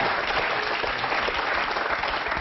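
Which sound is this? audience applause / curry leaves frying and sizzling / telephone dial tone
audience applause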